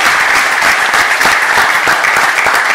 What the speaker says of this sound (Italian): Possiamo fare un applauso